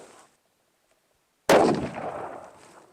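A single 7mm PRC rifle shot fired at a target range, a sharp loud crack with a rolling echo that fades over a second or so, after a near-silent pause.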